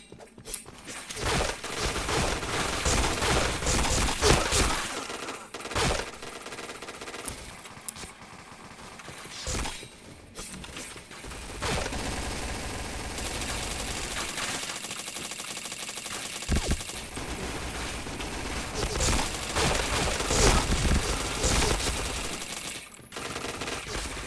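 Rapid gunfire in a shooter video game, bursts of automatic fire and single shots crackling almost continuously, loud and close with brief gaps between volleys.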